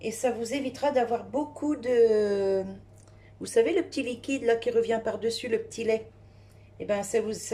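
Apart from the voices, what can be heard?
No everyday noise stands out behind the speech.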